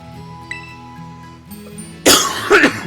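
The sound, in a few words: cough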